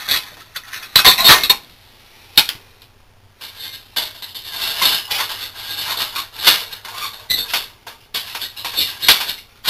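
Light metal clinks and taps as titanium parts of a Caldera Cone Ti Tri Sidewinder cook system and its simmer ring are handled and set in place, in a steady run of close, irregular clatters.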